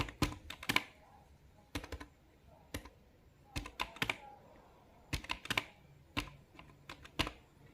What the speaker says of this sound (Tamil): இப்போ எக்ஸாம்பிளுக்கு நான் திஸ் இஸ் பெஸ்ட் அப்படின்னு டைப் பண்ணுறேன்.